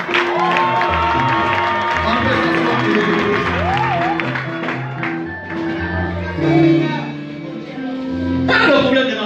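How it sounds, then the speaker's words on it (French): A church congregation cheers and acclaims with clapping and whoops over loud sustained music with a steady beat, the crowd noise swelling near the end as voices rise. "Acclame pour toi-même."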